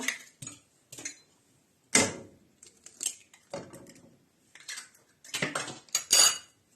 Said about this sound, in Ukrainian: Вбиваємо два яйця.